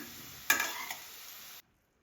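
Potatoes deep frying in oil in a thick-bottomed kadai; a brief burst of crackling sizzle with a stir or scrape, close, then a sudden cut to silence.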